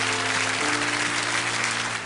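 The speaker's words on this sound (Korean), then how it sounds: "우리 한 번 더 큰 박수로 축복합니다." Congregation applause at a church Christmas service, a dense sustained clapping from many people filling the hall, heard alone.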